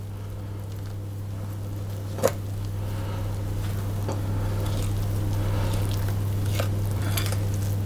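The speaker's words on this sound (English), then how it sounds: "I'm going to use my fork just to stir that around until it starts to come together" A fork stirring flaky scone dough in a bowl gives soft, faint scraping with an occasional light clink, set under a constant low electrical hum.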